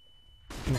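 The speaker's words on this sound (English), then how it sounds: "Throwing flashbang." A flashbang grenade bursts in a competitive round of a tactical shooter game, a sudden loud broadband blast erupting after a quiet moment and ringing briefly at the end.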